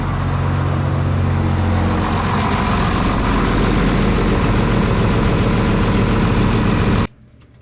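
John Deere 7520 tractor engine running steadily under load on an M&W dyno, a loud, continuous low rumble that holds evenly before cutting off abruptly near the end.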